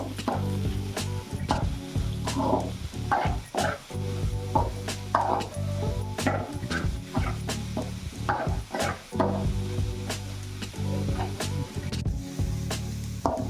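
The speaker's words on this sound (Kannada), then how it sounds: "ಇವಾಗ ಬೀನ್ಸು ಅವರೆಕಾಳೆಲ್ಲ ಚೆನ್ನಾಗಿ ಬೆಂದಿದೆ. ಚೆನ್ನಾಗಿ ಎಣ್ಣೆನಲ್ಲೇ ಫ್ರೈ ಆಗಿ ಬೆಂದಿದೆ." Green beans and field beans fry in oil in a pan for upma, sizzling steadily while a spoon stirs and scrapes with frequent rhythmic clacks close by.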